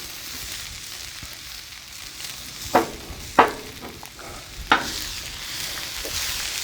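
Frozen vegetables frying on a hot Blackstone griddle for shrimp fried rice, giving a steady close sizzle broken by three sharp, loud metallic scrape-clacks from a spatula.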